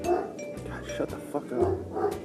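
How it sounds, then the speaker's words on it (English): A dog barks several times close by while a person speaks over it. "Because I sneezed, the dog's barking now."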